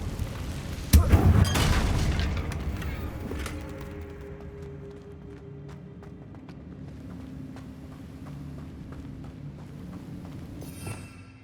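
A Confringo blasting spell explodes in Hogwarts Legacy, a loud booming blast at a damaged bridge followed by a long rumbling decay and scattered debris crackles fading into the background.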